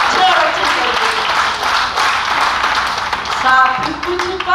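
Audience applause at a Hindi poetry recital, a dense burst of clapping that fills the whole stretch, loud and steady with a slight swell near the end.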